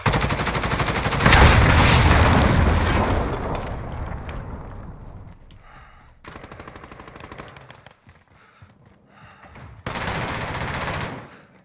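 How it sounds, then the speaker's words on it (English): Cruise missile strike and gunfire in Call of Duty: Modern Warfare (2019) on the Atlas Superstore map: a loud, dense roar of blasts and automatic fire in the opening seconds, then a quieter stretch of scattered shots, then a sharp new burst near the end. "Allied cruise missile away."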